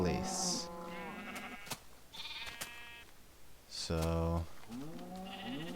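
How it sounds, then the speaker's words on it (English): A baby sheep in Minecraft gives several short bleats spread across the moment, interleaved with someone talking at a fairly quiet level. "I'm getting a baby sheep every time, but it's never in the right place."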